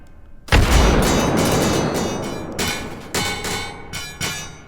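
Gas cuboids in the VR game H3VR go off in a chain reaction, starting with one sudden loud blast and followed by a string of further sharp, clanging explosions that ring and decay.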